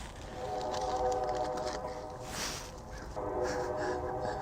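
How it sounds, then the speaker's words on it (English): A train rumbles past near a marina while its horn sounds in sustained tonal blasts, steady and moderately loud throughout. "That train never shuts up."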